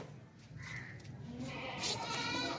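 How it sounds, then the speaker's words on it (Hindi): A pregnant goat for sale bleats in a short, moderately loud call amid farmyard background noise, with a second bleat rising toward the end. "बहुत ज़बरदस्त बेहतरीन गबन बकरी है"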